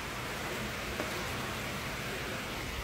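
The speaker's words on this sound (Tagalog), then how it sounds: "Ayan, medyo umulan na naman." Steady, even rain falls outside during a flood, a dense hissing wash that holds constant throughout with no voices and no distinct drops standing out.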